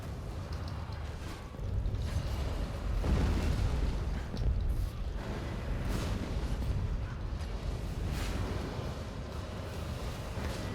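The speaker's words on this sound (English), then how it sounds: "Watch out for explosions" Repeated booming blasts in Elder Scrolls Online's Rakkhat boss fight, Maw of Lorkhaj, rumble one after another over a dense, noisy background, loud and continuous with no voices heard.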